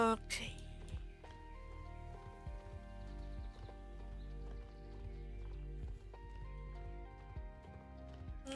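Horse in the video game Star Stable, repeated hoof clip-clop steps with a brief whinny, under a player speaking German over gentle game music.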